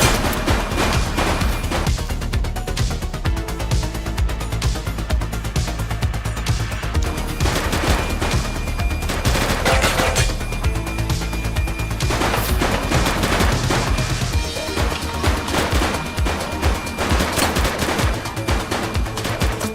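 Sustained automatic gunfire from a shooter in the police video game The Precinct, loud, dense bursts rattling continuously throughout with no pause.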